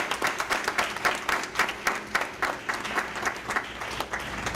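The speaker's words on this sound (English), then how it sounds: "So let's give them another big round of applause." Applause at a school board of trustees meeting, a modest group clapping in a loose, pulsing rhythm with individual claps audible throughout.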